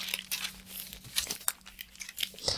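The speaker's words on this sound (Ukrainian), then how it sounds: "Розкриваємо так само і підклеюємо папірчик." Paper crinkles and rustles as it is glued onto a fabric dress pattern piece during sewing, in soft, irregular, close crackles with no talking.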